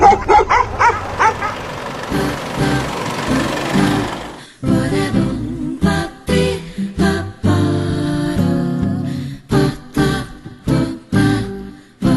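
Dogs at a dog-friendly resort bark and yip in quick bursts over bright background music, close and fairly loud, with a whimpering note early on.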